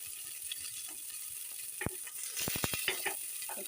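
Onion frying with garlic and ginger in a pan for mutton sambar: a steady hiss of oil with a few sharp clinks of a spoon stirring against the pan, close and alone.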